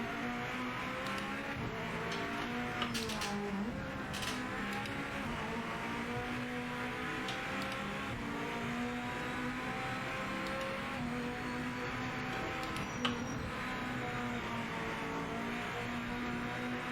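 Toyota race car engine in Project Motor Racing, a steady high-revving drone holding close and constant with shifting harmonic pitch through the run, no talk over it.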